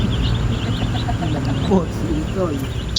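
Many chicks and chickens cluck and peep close by in a loud, steady flock chorus, with people talking over the birds throughout.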